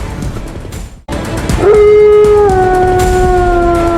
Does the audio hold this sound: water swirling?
no